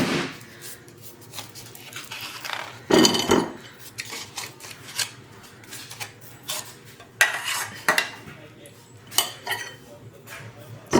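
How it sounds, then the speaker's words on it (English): Knife cutting stacked food into quarters on a board, with pieces dumped into a bowl; close, irregular chopping taps and clattering scrapes in bursts, over faint background noise. "So I'm just gonna take and keep them stacked and just cut these into 4s and just dump them in this bowl."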